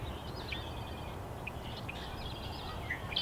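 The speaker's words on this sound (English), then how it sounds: "Now you can hear birds calling." Faint, scattered bird calls and chirps drift from a prairie near a marsh, distant and soft above a steady breezy background hiss.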